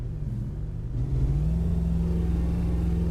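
A Ford F150 SVT Raptor pickup truck engine in American Truck Simulator rumbles low and revs up slightly, holding a steady droning pitch, with a muffled, synthetic quality.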